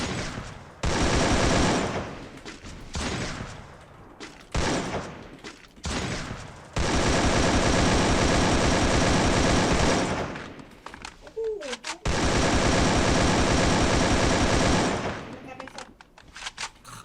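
Automatic rifle fire in a video game: long, loud bursts of rapid shots alternate with shorter volleys and brief gaps, with a player's voice between bursts.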